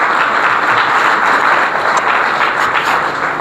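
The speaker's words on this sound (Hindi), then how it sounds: "तालियां बजाए जिसके लिए इसको वेलकम करें" Applause in church to welcome a newly baptized child, a dense, steady wash of clapping that stays fairly loud and even throughout, with no voices standing out.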